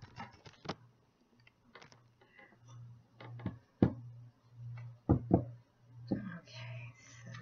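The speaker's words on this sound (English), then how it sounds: "Now I am going to shuffle your cards." Intermittent soft shuffling and tapping of tarot cards, with brief sharper slaps and rustles, fairly close and quiet, alongside a low steady hum.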